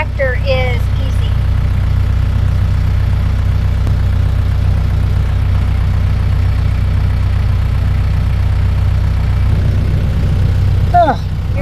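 The engine of a big red tractor runs steadily at idle with a deep, constant rumble, loud and close throughout. A voice is heard briefly near the start and again at the end.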